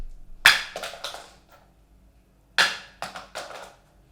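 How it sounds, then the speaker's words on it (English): Two sharp hard impacts about two seconds apart, each followed by a few quick rattling bounces, as a Cubot King Kong Mini rugged smartphone is slammed down and clatters on a hard floor. "I'm literally smashing this phone on the floor and nothing happens to it."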